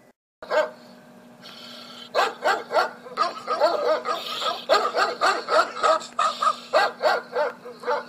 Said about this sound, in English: We'll use the twilight bark to alert all the dogs in London and in the villages nearby.